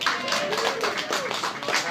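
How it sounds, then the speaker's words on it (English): Audience clapping broke out for siblings at a comedy show, a dense, steady wash of hands from a crowd with voices mixed in underneath. "Clap it up for siblings."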